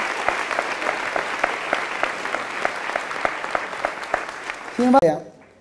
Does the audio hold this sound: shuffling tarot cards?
no